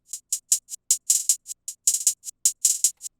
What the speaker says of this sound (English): starting off with the bends hi-hat